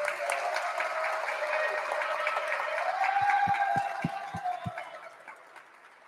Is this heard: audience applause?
yes